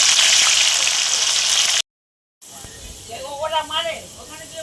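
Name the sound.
potatoes frying in hot oil in a pan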